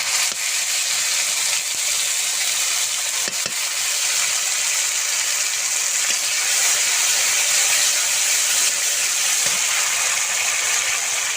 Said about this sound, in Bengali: শুকনো লঙ্কা গোটা জিরে ফোড়ঙে দেব বেটে রাখা মশলা দিয়ে দেবো